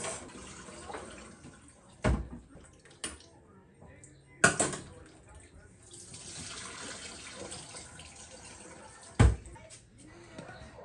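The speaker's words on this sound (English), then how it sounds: "I'm just gonna wash the rice right now" Rice being rinsed in a kitchen sink under a running tap, with a steady, faint trickle of water and a few sharp splashes and clunks as the grains are handled.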